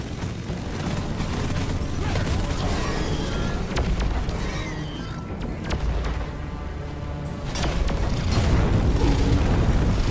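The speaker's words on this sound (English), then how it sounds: "Where are the explosions coming from?" Dense, continuous rumbling booms and blasts from the video game Deep Rock Galactic overlap one another, loud and chaotic, a sustained barrage of explosions with occasional brief lulls.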